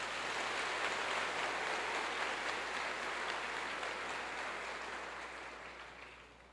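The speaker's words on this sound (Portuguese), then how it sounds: "Vamos aplaudir a palavra do Senhor" A church congregation applauds after a sermon reading, a dense wash of many hands clapping that stays steady and loud, then slowly thins and fades toward the end.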